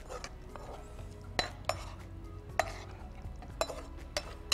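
A cooked dish being stirred with lemon juice squeezed in after the gas is turned off, a metal spoon clinking and scraping against the pot every second or so over a low steady background, quiet and close.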